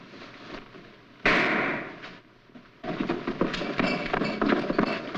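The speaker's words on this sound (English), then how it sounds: "What was that shot?" A sudden sharp burst like a gunshot or firecracker rings out in a city courtyard, loud and close, followed by a noisy, bustling stretch of clatter and commotion.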